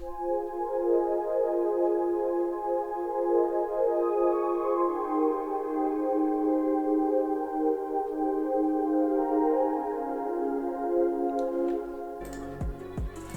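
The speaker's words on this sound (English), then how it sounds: "So when I did the piano, I added a pad, which is from Contact" A synth pad from Kontakt holds a sustained, smooth chord that slowly shifts its tones for about twelve seconds, steady and moderately loud. It ends in a brief burst of noisier hits.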